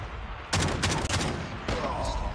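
The ECHO shotgun fires in Call of Duty Mobile: a pair of loud, broadband gameplay blasts close together, then another shot a moment later, all over busy game noise.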